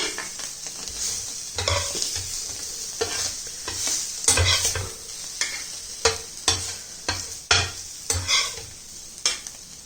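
Paneer shallow frying in a pan for homemade pizza: a steady sizzle with repeated stirring scrapes and utensil knocks against the pan, close and moderately loud, no talk.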